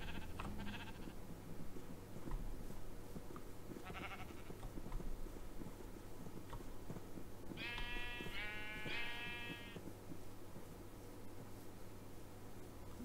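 Sheep bleat in the Minecraft video game, two short wavering cries close together partway through over a steady low background hum and faint rustling.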